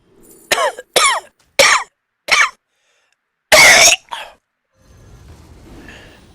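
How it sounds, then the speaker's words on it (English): A man playing Hearthstone Battlegrounds coughs in a series of sharp, close bursts, four quick coughs, then a harsher hacking cough and a throat clear, before a quieter stretch of breathing and low noise. "I really do apologize, guys, for all the coughing and wheezing"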